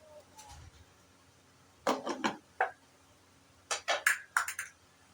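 Metal clinks and clatter as a lid goes onto a karahi pot of chicken karahi made with desi ghee, two short clusters of close knocks and rattles separated by quiet kitchen background.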